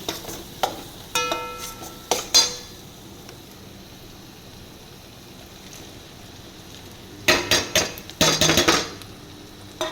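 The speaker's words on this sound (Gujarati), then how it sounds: "આને હલાવી નાખશું" A spoon clatters and scrapes in a pan as fried okra is stirred into a spicy gravy. Loud clustered bursts of metallic stirring come near the start and again near the end, with a soft sizzle between them.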